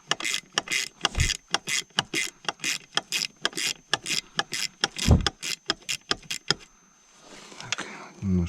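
Metal parts of a broken Suzuki 9.9 outboard gearbox being unscrewed during disassembly, a steady run of sharp, close ratcheting clicks in quick rhythm, followed by a quieter stretch of faint handling noise.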